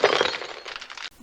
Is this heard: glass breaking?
yes